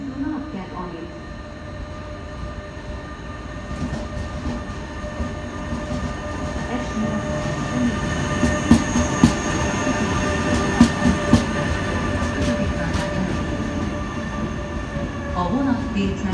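A TRAXX electric locomotive hauls a EuroNight passenger train from Vienna into a station, giving a steady rolling rumble with faint rail clatter and brief wheel squeals toward the end, continuous throughout with no talk.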